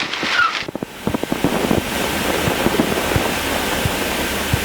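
Strong gusty wind buffets the microphone in open air, producing loud rumbling roars and irregular thumps that surge and ease over several seconds.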